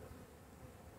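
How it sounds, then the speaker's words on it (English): Honeybees buzz in a hive being opened for a queen introduction, with a queen cage and brood frame inside. The hum is faint and continuous, with no talk over it. "a whole lot of bees"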